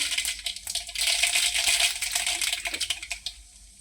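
Mustard seeds thrown into hot oil crackle and pop in quick, scattered bursts over a light sizzle, fairly close, with the popping easing off toward the end.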